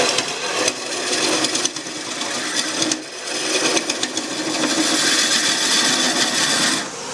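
Wood lathe during deep hollowing with the cutter held horizontal, a harsh continuous scraping and rattling from the tool rest, close up, with brief dips in the cutting noise.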